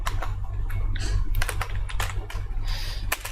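Rapid, uneven clicking of computer keyboard keys as Java code is typed, close and clear, with bursts of keystrokes over a low steady hum.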